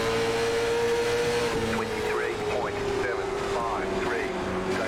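Race car engine in iRacing on the Kern Raceway oval, a loud sustained drone that climbs and holds, while a voice talks over it.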